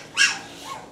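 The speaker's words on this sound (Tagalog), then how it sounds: "Ingay naman yung aso." A single short dog bark rings out, fairly close and alone in a quiet spot beside a 1998 Honda Dio AF18 50cc two-stroke scooter under repair, with a fainter second yelp trailing just after.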